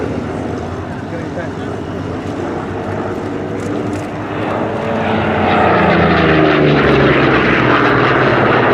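A Corsair warbird, the WWII Marine Corps propeller fighter, flies past at the Duxford Flying Legends airshow, its piston engine droning steadily and swelling louder as it nears over a broad crowd-and-wind wash.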